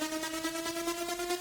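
Dense, buzzy synth notes ride upward through pitch-bend automation in an FL Studio trance build-up, held and continuous at steady loudness with a pulsing texture, alone without talk.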